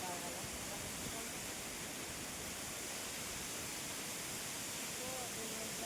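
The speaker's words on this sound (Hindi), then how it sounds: "ये तो छोटा वाला है और ये रहा बड़ा वाला वाटरफॉल।" A big waterfall beside a hill road gives a steady, broad rushing hiss that stays constant throughout, with a voice faintly present beneath the roar.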